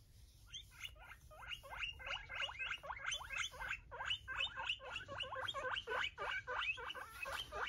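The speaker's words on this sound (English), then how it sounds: "Guinea pig." A guinea pig squeaks in a rapid, continuous string of short high chirps, each rising sharply, repeating several times a second for the whole stretch at close range with no other sounds.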